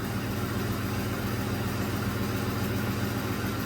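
A 2007 Ford F150 with the 4.6 engine idles after a cylinder-two misfire repair with a new plug, boot and coil, a steady, even, continuous rumble heard close up with no voices.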